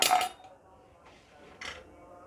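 Metal pressure cooker lid being closed, a sharp clanking bang at the start followed by two softer metallic clinks and scrapes.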